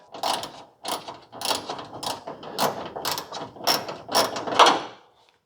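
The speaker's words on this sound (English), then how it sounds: "need a ratchet for that one" A hand ratchet clicks in about eight quick bursts as it tightens a headlight fastener on a 1940 Ford-inspired hardtop coupe, close and distinct, with brief gaps between strokes.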